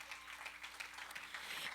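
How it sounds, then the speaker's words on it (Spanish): A church congregation applauds, a brief burst of dense clapping that stays steady and fairly distant for under two seconds. "Dele un fuerte aplauso al Señor"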